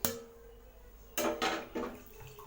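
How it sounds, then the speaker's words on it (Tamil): A cooking pot lid lifted after about ten minutes of baking chocolate cookies without an oven, giving a few close metallic clanks and scrapes in quick succession after a quiet start. "இப்போ மூடி ஓப்பன் பண்ணி பார்க்கலாம்."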